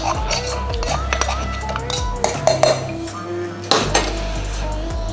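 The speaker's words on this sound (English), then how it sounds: "Grab your muddler, give that a quick muddle." A muddler crushes lychees in a glass, making a run of dull knocks and bright glassy clinks at close range in an uneven rhythm.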